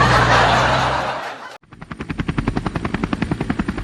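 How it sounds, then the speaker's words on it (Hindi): Helicopter sound effect in a comedy sketch, starting after a brief cut to silence and building into a steady, loud rotor chop with even, rapid blade beats that continue to the end. "हेलीकॉप्टर की आवाज"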